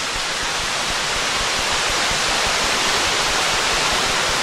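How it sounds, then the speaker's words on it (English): Steady broadband rush of a waterfall along a forest trail in Worlds End State Park, Pennsylvania, loud and continuous with no break. "I hear water."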